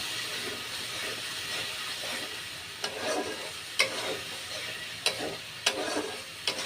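Spice paste frying under a lid in a pot for beef tripe curry, making a soft, steady sizzle with a few sharp spits and pops, fairly quiet and close.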